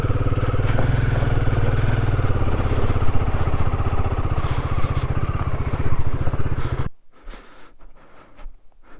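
A motorcycle engine labors loudly and steadily as the rider shifts into first gear on a rough shortcut track, with a throbbing low rumble that cuts off abruptly near the end, leaving quiet ambient noise.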